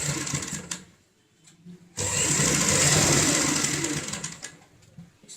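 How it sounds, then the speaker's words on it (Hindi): A sewing machine stitching door mat fabric in short bursts: a brief run, a pause, then a longer steady whirring run of several seconds before slowing to a stop, fairly close and alone. "सबसे पहले हमें यहाँ पे सिलाई लगानी होगी।"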